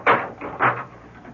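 A door opens and shuts as someone leaves, giving a few soft, hollow wooden knocks and thuds close by, spaced across a second or so, then a fading settle.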